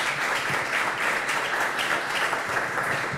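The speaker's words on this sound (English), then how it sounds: "give yourself a round of applause" A conference audience gives a round of applause, dense continuous clapping that holds steady and loud throughout.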